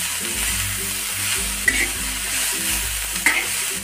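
A spicy green-chili thecha masala with tomato and chopped coriander sizzles steadily in a pan. It is stirred throughout, with two sharper scrapes of the spoon, over a low tonal hum in the background.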